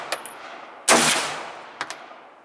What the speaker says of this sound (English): Shoot the cream corn.